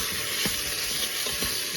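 A whisk stirs okra stew in an Instant Pot, producing soft scraping strokes over a steady sizzle.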